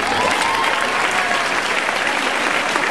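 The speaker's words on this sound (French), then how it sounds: "On continue à les applaudir aussi." A crowd at a dance competition in Rillieux-la-Pape, the SAKADANSE 2011 contest, applauds a prize announcement. The clapping is full and continuous, a close, loud roar of many hands that holds steady throughout.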